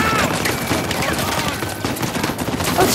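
Blind-fire gunshots in Uncharted 4, a steady dense burst of rapid shots running through the whole stretch, loud and close, with game sounds layered around them.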